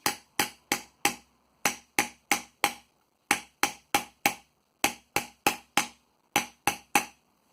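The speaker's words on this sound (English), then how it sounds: "Now the next stage would be to take the same hammer and work on the next ring out." A hammer striking sheet metal to form an early medieval scale bowl gives sharp, ringing blows close up. They fall in quick groups of three or four with short pauses between, loud and isolated against silence.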